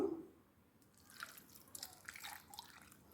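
Water poured into a pot of tomato curry during home cooking, a faint, quiet trickling and dripping that starts after a brief moment and continues unevenly to the end.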